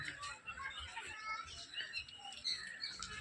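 Small birds chirp and tweet continuously at a moderate distance at a zoo in Guwahati, Assam, with a busy ambient murmur of visitors underneath.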